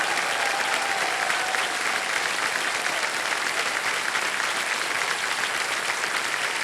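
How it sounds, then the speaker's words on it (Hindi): A studio audience on a televised quiz show claps steadily and densely, loud and sustained throughout with no pauses and no voices over it. "ताली बजती रहे,"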